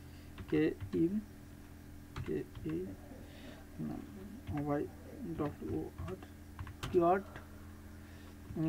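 Keys clack on a computer keyboard as a keyword is typed, light irregular taps running under steady close-up talking throughout.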